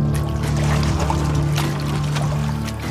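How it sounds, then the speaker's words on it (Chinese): Sand and soil are washed in a gold pan, a close sloshing and pouring of water with gritty trickles over a steady low engine hum from nearby machinery, without speech. "装满整整一盆的沙土后便开始了淘洗"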